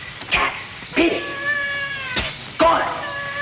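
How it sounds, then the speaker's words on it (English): A cat meows and caterwauls in several drawn-out, wailing calls, loud and close, spaced across a few seconds with brief gaps between them. "Some cat woke me up."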